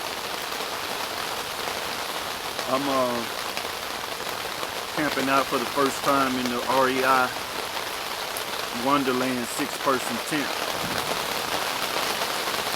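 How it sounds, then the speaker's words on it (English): Heavy rain patters continuously on an REI Wonderland 6-person tent while camping at Huntsville State Park in stormy weather; someone speaks in short bursts over the steady, close drumming. "Y'all hear that rain?"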